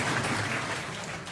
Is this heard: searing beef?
no